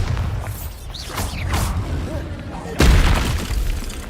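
A Bombarda spell detonates in Hogwarts Legacy, a sudden loud boom with a crashing burst late in the clip, preceded by whooshing spell effects and mechanical clatter under a speaking voice.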